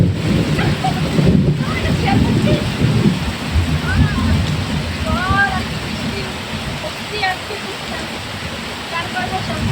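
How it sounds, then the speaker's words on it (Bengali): Rain falls hard on a one-storey house roof during a thunderstorm, a loud continuous wash with low rumbling underneath, while a person talks over it and birds chirp faintly. "হ্যালো গাইস, বৃষ্টি হচ্ছে"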